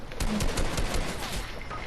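Rapid automatic gunfire from an enemy player in Fortnite, a loud, dense burst of shots lasting nearly two seconds without pause.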